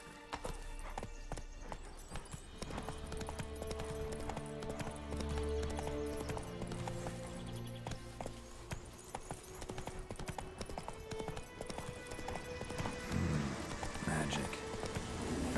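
Roach, a horse in The Witcher 3 video game, gallops with a steady, continuous clatter of hoofbeats over game music and ambience, and some talk can be heard underneath.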